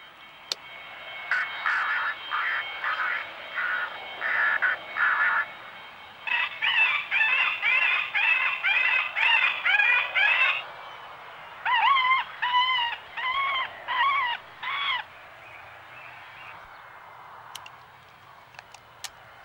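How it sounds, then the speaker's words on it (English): Recorded alarm calls of pest birds blare from a loudspeaker in a Land Rover at an airport: harsh, repeated squawking bursts in rhythmic groups, separated by short pauses, fairly loud over a quiet outdoor background. "Inside the Land Rover is a recording of the alarm calls of the more serious bird pests"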